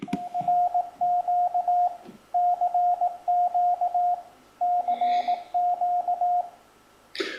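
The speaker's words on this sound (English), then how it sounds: "that's the most common thing you'll hear when you're listening for Morse code on your radio" A steady Morse code CQ call beeps out in clear dots and dashes, grouped in repeating runs with short gaps, crisp and close over faint radio hiss.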